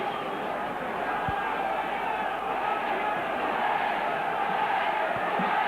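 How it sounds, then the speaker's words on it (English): Near capacity rugby league crowd at the Willows in Salford during a 1996 Salford versus Wigan match, a continuous distant roar of many voices with a commentator talking over it. "Near capacity crowd."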